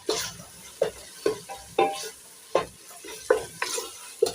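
Grated carrots being stirred into a pot of cooking tomatoes for an arrowroot and potato stew, with a spoon scraping in repeated strokes roughly every half second over a soft sizzle, close and moderately loud.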